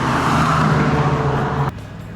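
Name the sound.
road traffic passing by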